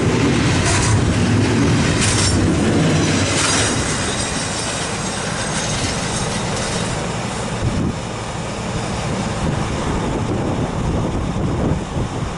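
CN freight train with distributed power units rolling past in winter, a loud continuous rumble of wagons and wheels with occasional squeals, steady throughout at close range.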